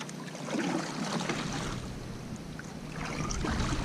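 A Jonny Boats Bass 100, a small boat that is not a kayak, being paddled across open water, with a steady wash of splashing and water rushing past the hull plus some wind, close and continuous, no talking.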